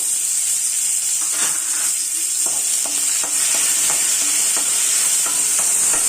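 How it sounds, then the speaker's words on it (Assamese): Cashews and raisins frying in a spoonful of ghee in a hot kadai, a loud continuous sizzle with a series of stirring clinks against the pan. "আৰু খিচমিচখিনি ভাজি লম।"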